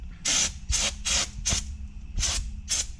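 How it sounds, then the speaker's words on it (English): Short bursts of AutoZone brake cleaner sprayed onto car brakes during a rotor and pad change, five quick hissing squirts in an uneven rhythm, close and loud with pauses between. "get yourself some brake cleaner. I got this stuff from AutoZone, and just give it a little squirt"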